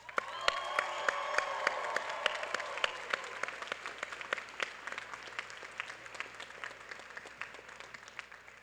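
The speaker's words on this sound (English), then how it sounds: "Please give yourselves a round of applause." Undergraduate graduates applauding themselves at a fall 2025 commencement ceremony: a dense, sustained round of crowd clapping with sharp individual claps standing out, strongest at first and then easing off slowly.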